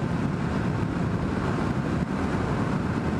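Steady, heavy wind noise rumbles against the microphone throughout a bike ride past corn and soybean fields, a dense, unbroken low roar with no voices.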